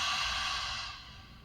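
A long, steady breath pushed out through the mouth during a yoga session, close and breathy, fading gently toward the end with no talk over it.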